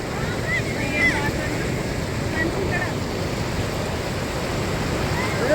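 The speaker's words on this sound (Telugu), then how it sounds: "అద్భుతమైన వాటర్ ఫాల్ దగ్గర" A waterfall in the jungle where water pours down onto rocks, heard as a steady broadband rushing roar that stays constant throughout, with faint voices in the distance.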